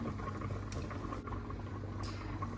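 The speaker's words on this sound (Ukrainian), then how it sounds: "Закипіла вода і в киплячу воду кладемо петрушку." A pot of water at a steady rolling boil for a parsley soup, a dense continuous bubbling hiss with a low simmering rumble and occasional splashes as parsley goes in, close and alone.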